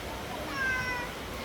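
A cat lets out a thin, drawn-out meow, soft and mid-distance, rising briefly in the middle of an otherwise quiet stretch.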